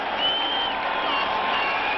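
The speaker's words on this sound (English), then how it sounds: "this is a fired-up crowd here tonight" Crowd at a 1988 Eagles vs Giants football game, a continuous wash of cheering and applause from a large stadium audience, loud and sustained, with a commentator's voice faintly underneath.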